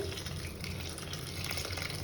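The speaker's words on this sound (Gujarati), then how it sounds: "પાણી એડ કરીને આપણે કૂક કરી લેવાનું છે." Water poured into a cooking pan holding five tomatoes and green chillies, a soft continuous gushing splash at low level, with no talking.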